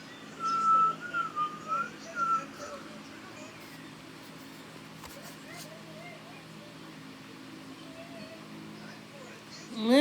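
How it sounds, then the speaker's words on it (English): A person whistles a few short, wavering phrases up close near the start, with a quieter melodic trace continuing under a steady background hum before a sharp rising note at the very end. "Let me try to whistle for you."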